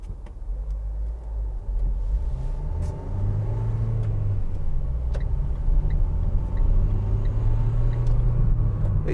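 An empty 2015 Vauxhall Vivaro 1.6 CDTi ecoFLEX diesel van accelerates, heard from inside as a steady low engine drone that rises in pitch through the gears over road rumble.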